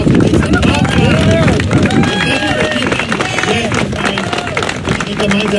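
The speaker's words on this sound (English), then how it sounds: "Let's have a really loud round of applause for this." A crowd at a memorial gathering claps and cheers in a dense, continuous burst of applause, with voices and chatter mixed in throughout.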